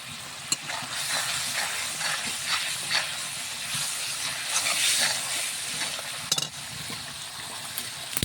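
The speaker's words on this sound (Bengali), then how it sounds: "মশলার উপর যখন তেল ভাজবে তখন আমি মাছগুলো ঢেলে দিই।" Fried fish being added to spice paste sizzling in hot oil, a continuous loud hiss and crackle with small pops and a few sharp clatters, close by with no talk.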